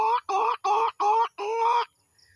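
Hen clucking to call a rooster, five loud, close, nasal calls in an even rhythm, the last one drawn out longer, followed by near silence.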